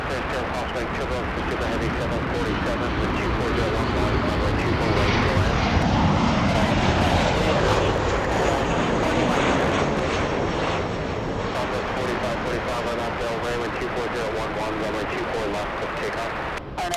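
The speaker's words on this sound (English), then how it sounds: "just in time to see a rare north side arrival by a cargo, a freighter." A cargo freighter jet arrives at LAX on an approach from the north side, its loud engine roar filling the whole stretch at close range, with voices talking over it.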